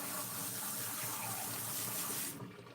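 Tap water runs steadily into a sink in a continuous even gush while a used American Girl doll's hair is washed with diluted shampoo, then the flow cuts off abruptly near the end.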